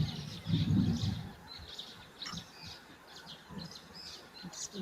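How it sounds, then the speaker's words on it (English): White-browed sparrow weavers calling at a waterhole on a cold, rainy day, scattered short chirps and chattering notes at a middling distance over soft background noise and a brief low rumble. "I'm still hearing the white-browed sparrow weavers."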